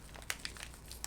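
A mochi packet torn open by hand without scissors: quiet, close plastic crinkling in several short, sharp bursts spread over about a second.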